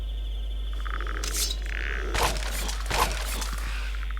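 Skeleton sound in Minecraft with a Skyrim sound pack: dry rattling, clattering bursts, several brief bony cracks over a steady low game hum.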